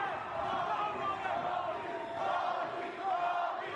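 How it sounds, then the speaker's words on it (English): A pro wrestling video game crowd roars and cheers in a steady, dense wash of noise throughout, with a voice talking over it. "Crowd goes wild, baby."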